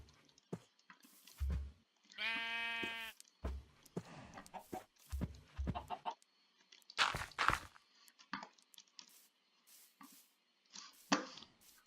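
Pink sheep in Minecraft bleats once, a clear buzzing bleat among many short clicks, thumps and clucks from other farm animals and footsteps, with no talking.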